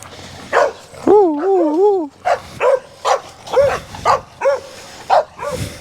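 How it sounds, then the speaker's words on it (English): Excited dogs on Xiaoliuqiu island near the seaside let out a run of loud, close barks and yips, with one drawn-out whining howl among them. "the dogs"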